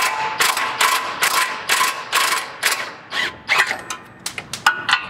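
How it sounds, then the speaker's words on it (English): Ratcheting, clicking bursts from a tool loosening a bolt on the suspension of a 2018 Ford Raptor, loud and close, a string of sharp spurts that shorten toward the end. "All right, so I'm gonna use the impact."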